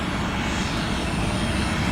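An airliner taking off from an airport runway produces a loud, continuous engine roar with dense low rumble and a thin high whine, heard up close and unbroken for the whole moment.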